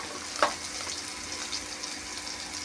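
Fried lentils with cumin powder, chopped ginger and green chillies sizzling in a pan, a steady soft hiss with one brief utensil clink near the start, fairly quiet, no talk.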